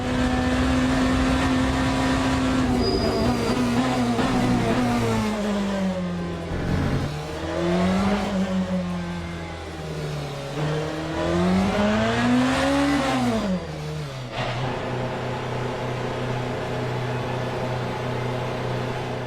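BMW M Hybrid hypercar lapping Spa in Le Mans Ultimate, its engine droning steadily at high revs, then rising and falling through gear changes and braking, loud and close throughout with no talking.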